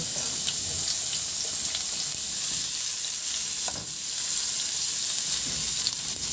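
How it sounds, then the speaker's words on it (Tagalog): Garlic sautéing in hot oil for a tomato pork rib dish makes a dense, continuous sizzle close by, with faint scraping as it is stirred. "Magpainit na rin ako ng mantika at igisa ko na yung bawang."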